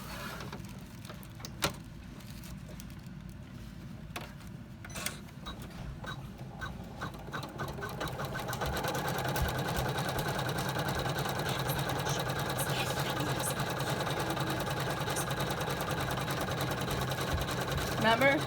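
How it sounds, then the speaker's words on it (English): Sewing machine top stitching an in-the-hoop bag, at first quiet with some handling clicks, then a steady, loud mechanical whir of rapid needle strokes running continuously for the second half, close up, with talking during the stitching. "we're going to fold it against that stitching, and we're going to go ahead and do the top stitching"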